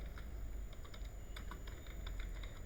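Someone types code on a computer keyboard, producing quick, soft key clicks in an irregular patter over a faint steady background hum.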